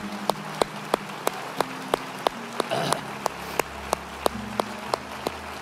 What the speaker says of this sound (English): Would you finish that off now with a clap of praise to him